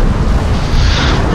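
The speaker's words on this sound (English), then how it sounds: "Bombardment." In the video game Middle Earth Shadow of War, a bombardment strike lands as a single loud, deep, rumbling blast that fills the whole short moment.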